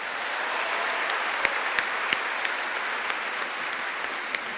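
A university audience claps for Mahfud MD at a live talk show on campus, a continuous, evenly spread patter of hands from a large crowd with a few sharper individual claps standing out.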